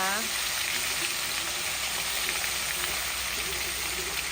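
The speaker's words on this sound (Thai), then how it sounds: "ย่าก็จะผัดผักมุ้งให้เรานะคะ" Water spinach (morning glory) being stir-fried in a home kitchen sizzles steadily and fairly loudly for a few seconds, a dense, rain-like crackle with no break.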